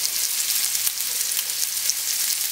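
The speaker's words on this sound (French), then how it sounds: "on va colorer nos langoustines pour leur donner un bel aspect" Langoustines browning in a hot pan, a steady bright sizzle and crackle of frying that holds evenly throughout, close and alone with no talk.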